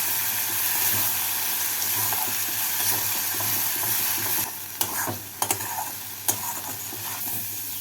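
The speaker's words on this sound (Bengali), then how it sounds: "এবার পালং শাকটাকে মশলার সাথে ভালো করে ভেজে নিচ্ছি" Spinach frying with spices in a pan: a dense, continuous close sizzle with occasional stirring scrapes, briefly dipping and then returning to full, loud crackle, without any voices.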